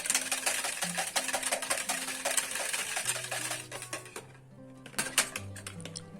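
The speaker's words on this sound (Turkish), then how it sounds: "Bir yemek kaşığı sıvı yağ ekliyorum. Çırpıyorum." A whisk beating crepe batter made with milk and a tablespoon of vegetable oil in a bowl, giving quick steady clicking and tapping over soft background music, slowing briefly near the end.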